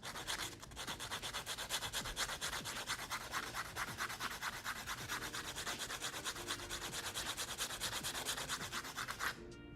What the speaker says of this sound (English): I'm gonna sand it real quick